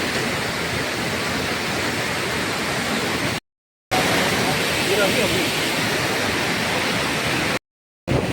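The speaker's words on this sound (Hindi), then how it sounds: "तो गाइस यही है काकोसांग वाटरफॉल।" Kakosang (Kaipholangso) waterfall in Karbi Anglong roars close and loud as a dense, steady rush of falling water and strong wind, cut by two brief dropouts.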